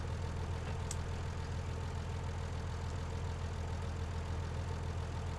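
Tractor engine idling in Farming Simulator 19, a steady low rumble that runs unbroken and fairly loud from start to finish.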